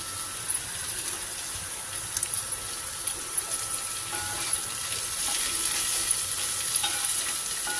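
Curry leaves frying in hot oil for capsicum chutney make a steady, even sizzle with faint crackling and a few soft stirring touches, close by and unbroken by voices.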